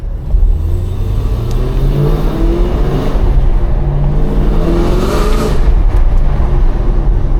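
An 800hp Cadillac CT5-V Blackwing accelerates hard through a neighborhood, its engine note rising through several gear pulls in loud, close revving sweeps, each climb breaking off briefly before the next.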